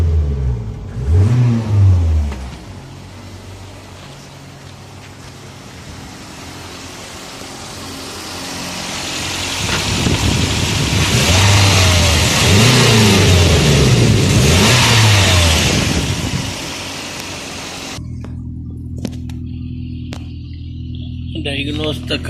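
A Toyota car engine with a cylinder misfire is revved several times in close, loud bursts, then drops back before the sound cuts to near quiet at the end.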